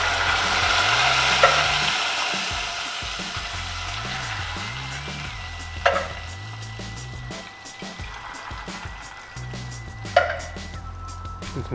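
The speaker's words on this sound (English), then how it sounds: "now put in 3 cans of tomatoes" Canned tomatoes, three cans' worth, hit a hot pan and sizzle steadily while being stirred, with a few sharper scraping clatters breaking through the continuous frying hiss.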